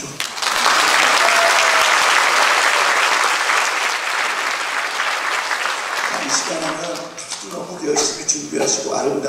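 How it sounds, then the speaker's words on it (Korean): A Korean church congregation bursts into loud, sustained applause that fills the room, then thins out into scattered claps as a voice starts speaking over the tail end. "박수 좀."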